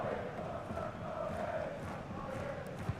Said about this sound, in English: I might raise the crowd noise a little bit.